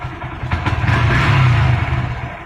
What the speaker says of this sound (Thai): ไหนลองเบิ้ลดูหน่อย